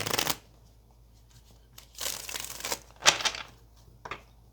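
Cards are riffled and bridged in several quick bursts, crisp papery flutters with short pauses between them, close and fairly clear.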